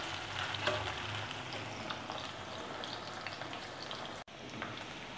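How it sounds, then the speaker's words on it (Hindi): Chicken for chowmein is stir-fried briskly in a hot pan, giving a dense, steady sizzle with faint rattling of the pieces being tossed. "और जो है आपने इसको बहुत तेज़ी से हिलाना है ताकि ये आपस में जुड़े नहीं।"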